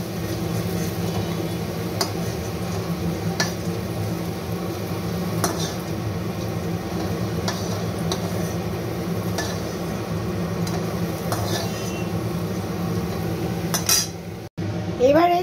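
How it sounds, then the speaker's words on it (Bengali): Fried potatoes moved from a pan of oil into another pot, light clinks and scrapes of utensils against cookware at a steady pace over a constant low hum, with a brief louder knock near the end. "আমি এবার আলুগুলো একটি অন্য পাত্রে তুলে রাখছি।"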